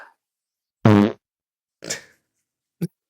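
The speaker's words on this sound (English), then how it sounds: "Farts are negated." Three separate farts in a quiet room: first a loud, buzzy, rippling one, then a softer, breathier one, and finally a brief low puff, each set apart by silence.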